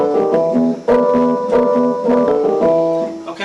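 A piano plays an organ-style verse part: repeated sustained chords struck in a steady rhythm, with a bouncing two-note figure in the lower middle, clear and close.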